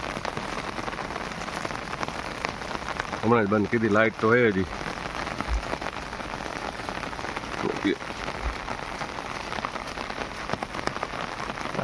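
Steady morning rain patters across a surface on a farm throughout, with a short stretch of talking partway through.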